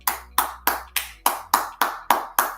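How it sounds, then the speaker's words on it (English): Audience applause for prize winners: about nine evenly spaced sharp claps in a steady rhythm, fairly close and clear, with no talking. "let's just give a round of applause to all of our winners today"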